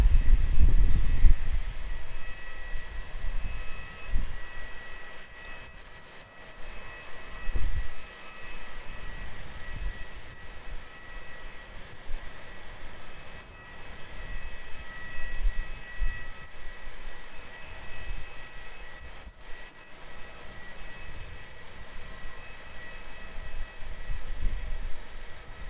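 A Jetstar airliner arriving at Melbourne Airport, heard from the terminal area as a steady, moderately loud engine roar that rumbles on for about half a minute, with wind-like low noise throughout and no talk.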